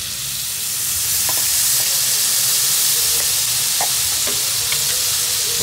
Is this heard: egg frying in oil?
yes